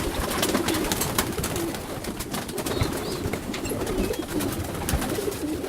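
White fantail pigeons cooing in a loft, soft repeated throaty coos from several birds close by, with a constant busy background of wingbeats and shuffling.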